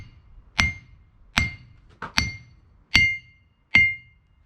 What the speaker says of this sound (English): I'll show you what it sounds like with my two pound hammer.